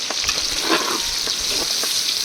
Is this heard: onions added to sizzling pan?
yes